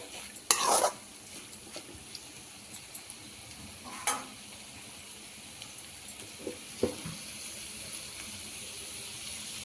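Ivy gourd (dondakaya) fry stirred in a pan, with soft background sizzling broken by a few scraping strokes and small clinks of a spoon against metal, close and moderately quiet, with no voices.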